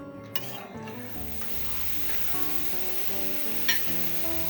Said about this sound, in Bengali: নেড়ে চেড়ে ঝিঙ্গাটাকে মশলার সাথে মিশিয়ে